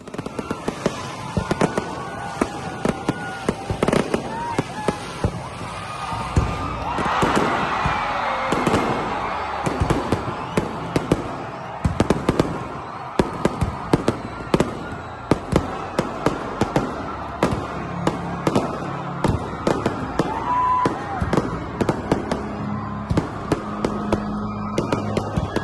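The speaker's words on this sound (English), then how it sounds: "the clear skies were then filled with fireworks" Fireworks at a nighttime opening ceremony burst again and again, sharp cracks and pops scattered in an irregular barrage over a continuous rumbling background, with faint crowd sounds underneath.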